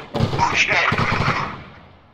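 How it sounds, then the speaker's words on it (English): Rapid bursts of video game gunfire from the Arma 3 Dynamic Bulwarks mode on the Stratis map crackle loudly at close range, a quick volley that fades into a short trailing echo. "Am I hearing gunshots from over here?"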